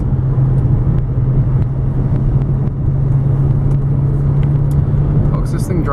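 A 2006 Dodge Charger R/T with a 5.7L Hemi V8 on the road, its engine holding a steady low drone with an even rumble and road whir throughout.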